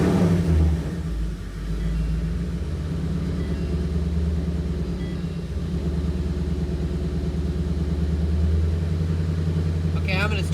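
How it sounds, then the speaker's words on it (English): A 2019 Mustang GT fitted with Hellion twin turbos fires up for its first startup, settling into a steady, rumbling idle that runs loud and continuous throughout, with a voice briefly audible over the engine. "Hellion twin turbos installed. First startup."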